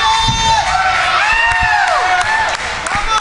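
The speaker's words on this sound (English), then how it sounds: "This Reality of Wrestling crowd getting behind Miranda." A Reality of Wrestling crowd cheers and whoops for Miranda during a diamonds division match, with loud sustained shouting, high excited yells and scattered clapping filling the arena.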